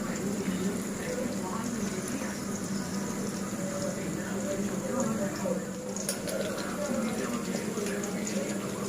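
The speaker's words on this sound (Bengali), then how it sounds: "এক সাইডটা হয়েছে এবার আরেক সাইডটাও ভাজা হবে" Chicken pakora fritters frying in oil, a steady dense bubbling hiss that holds for the whole stretch with a few soft clinks, under a voice talking now and then.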